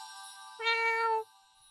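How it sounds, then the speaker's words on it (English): A kitten, injured and skinny, gives one clear high meow of about half a second, close and prominent over a steady ringing tonal background, with no talking. "Oh, a kitten. How cute."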